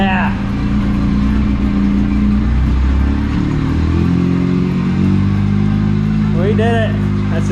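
A Polaris RZR 800S side-by-side with a rebuilt engine, new belt and new throttle cable runs loud and close, its engine note rising and falling through revs, with someone speaking over it.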